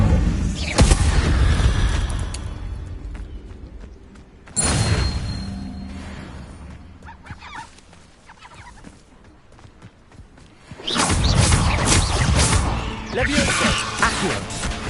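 Incendio fire spell casting in Hogwarts Legacy: whooshing bursts and booming flares of flame in three loud waves with quieter gaps between, mixed with other game sounds.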